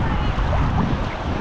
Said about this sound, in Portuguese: Banana chegou aí, a lancha da banana.